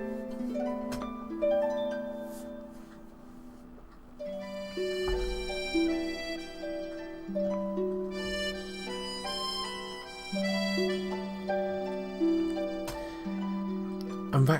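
A music track from the video game Suikoden IV, with layered sustained melodic tones, a steady low bass line and bright chiming notes, playing at moderate volume without talk.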